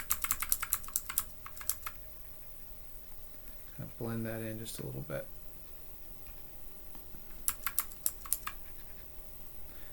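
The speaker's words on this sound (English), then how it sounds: "That clicking you hear is me using my bracket keys to increase or decrease the size of my brush tool." Quick bursts of computer keyboard bracket keys clicking in rapid clusters, close by, with a brief spoken phrase in the middle.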